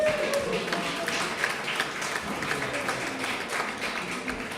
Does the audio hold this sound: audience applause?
yes